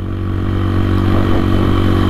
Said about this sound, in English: the exhaust sounds really good as well as looks good